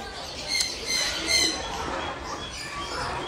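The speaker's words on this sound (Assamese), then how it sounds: "এইকেইটা বতা চৰাই হয় এইটো মানে হাইব্ৰিড প্ৰজাতি" Hybrid budgerigars at a park in Hyderabad give several sharp, bright squawks in quick bursts, close by, over a soft murmur of background noise.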